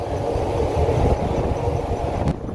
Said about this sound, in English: as slow as this damn auger runs, I might just take a nap